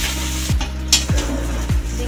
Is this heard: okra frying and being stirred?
yes